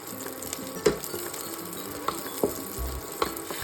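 Quiet sizzle of chopped onions and green chillies in white oil, with a few sharp clinks and scrapes of a utensil stirring in a pan, no voices.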